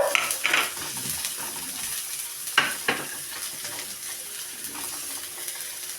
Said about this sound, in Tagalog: Gisahin lang natin sandali.